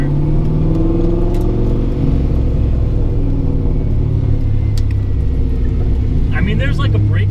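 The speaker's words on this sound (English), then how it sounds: "Right now I'm just driving around a parking lot." A car fitted with a swapped Strange S60 rear end drives slowly around a parking lot, a steady low engine rumble throughout with someone talking over it.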